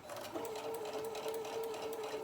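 A sewing machine hums steadily up close, stitching around the edge of a minky tag blanket with a continuous even whir and a faint rhythmic needle patter.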